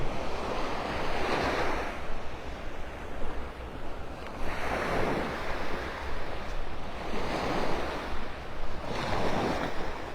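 Ocean surf rolls onto a beach at Delnor-Wiggins in North Naples, Florida, as the tide goes out. Loud, steady washing waves rise and fall in slow surges about every few seconds, with wind buffeting the microphone and no voices.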